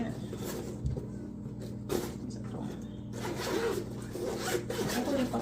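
A zipper on a bag compartment is pulled in several short, rasping strokes at close range, separated by rustling handling noise and brief snippets of talk.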